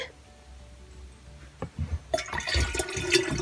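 Clean water poured into a fish container, a short watery splash and fill that starts partway through and continues to the end after a quiet opening.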